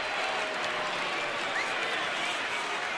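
A baseball crowd in a stadium applauding and cheering after a two-run homer, a steady wash of clapping and roar, with announcer commentary over it.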